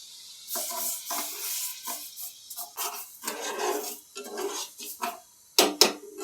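Sugar and fresh grated coconut stirred in a pan over medium heat as they cook into a syrup. Close, repeated scraping and rasping strokes are heard, with a couple of sharp clinks at the end. No one talks.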